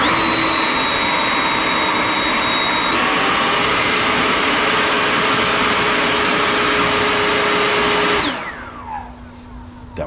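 A RYOBI 40V brushless cordless leaf blower about five feet away runs at a loud, steady whine, steps up sharply into turbo, then cuts off and spins down, leaving a fading tone.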